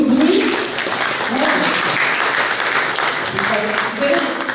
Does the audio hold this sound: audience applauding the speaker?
yes